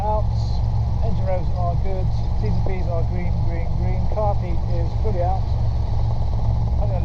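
The engine of a Robinson R22 helicopter drones steadily in the cockpit during a training flight. Its constant low hum runs beneath continuous talk between instructor and student.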